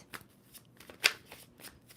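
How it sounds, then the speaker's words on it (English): A deck of tarot cards is shuffled in a few quick, crisp riffles and flicks, close and fairly quiet, with one sharper snap near the middle and no speech. "2 more shuffles."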